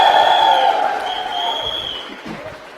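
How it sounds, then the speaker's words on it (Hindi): Applause from the audience at a VIP meeting for a speaker, a brief burst of clapping and crowd noise at the start that tails off, with tonal sounds and a voice above it. "एक बार सोनू सर के लिए जोरदार तालियां हो जाएं"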